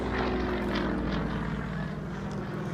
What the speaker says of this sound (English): Nigel's just turned out, done a wing over, and he's going to bring the aircraft back into the field